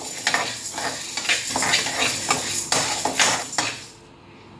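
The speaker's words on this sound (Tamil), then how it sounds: "இந்த துவரம்பருப்பு எடுத்துக்கிட்டு நம்ம வறுத்துடலாம்." Toor dal dry roasted in a kadai, with a brisk run of scraping, rattling stirring strokes against the metal pan, close and loud, before dropping to near quiet at the end.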